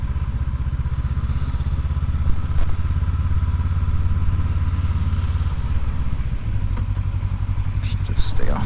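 A 2019 Honda CB500X motorcycle rides along a snowy road in Oregon, its engine droning steadily and close throughout, with a shift in engine note partway through and a brief clatter near the end.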